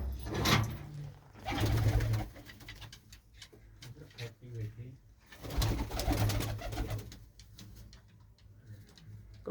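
Pigeons coo in low, repeated bursts nearby, with brief pauses between calls and faint background noises.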